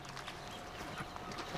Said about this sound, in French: l'allure des chevaux augmente